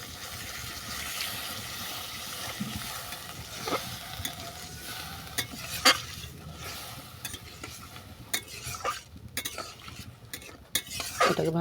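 Ground spice paste with water sizzling in a pan for badam posto potol, stirred with a metal spoon that scrapes and clinks irregularly over a soft bubbling fry.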